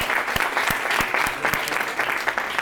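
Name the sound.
audience applause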